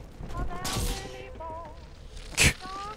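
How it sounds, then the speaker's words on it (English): Gunshots ring out in BioShock 2, a couple of sharp bursts including one loud close blast, amid game ambience and faint voices. "I'm going to shoot just a few down here."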